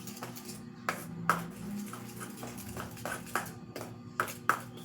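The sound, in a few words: stirring ice cream premix with a spoon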